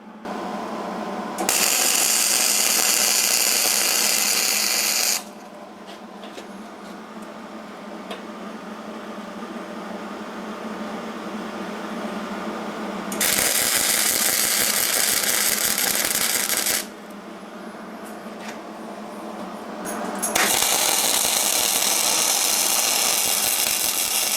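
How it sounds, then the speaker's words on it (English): Angle grinder dressing steel welds on a homemade IBC tote firewood conveyor frame, two loud, bright bursts of grinding of several seconds each separated by quieter stretches of workshop noise, with no talking. "I fix it with the grinder like bad welders do."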